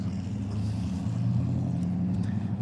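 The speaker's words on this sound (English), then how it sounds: "And is driving through there with his loud engine." A car with a loud engine drives through a city intersection, a steady low rumbling drone heard close and alone for a few seconds.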